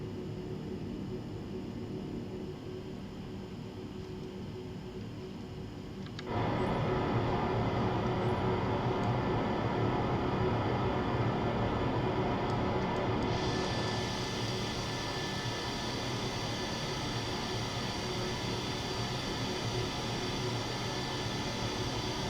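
Airliner taking off in Microsoft Flight Simulator 2020 at a misty Heathrow airport. A steady engine hum jumps sharply louder partway through as thrust builds, then holds a loud, even roar to the end.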